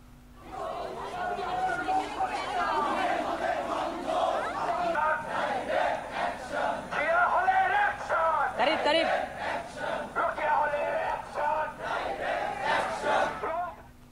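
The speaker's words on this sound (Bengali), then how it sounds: "বিক্ষোভের শিক্ষার্থীরা অধ্যাপকের বিরুদ্ধে বিভিন্ন স্লোগান দেন।" Protesting students chant slogans against a professor in a loud, massed crowd, their rhythmic shouting swelling and dipping continuously.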